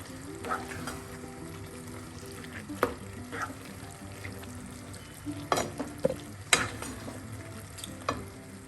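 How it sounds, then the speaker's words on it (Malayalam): A spoon stirs a kilo of chicken pieces coated in masala in a hot pan, soft steady sizzling broken by scattered scraping clinks against the metal, close and moderately quiet. "ഒരു കിലോ ചിക്കനാണ് എല്ലാം കൂടെ ഒന്ന് മിക്സ് ചെയ്യാം"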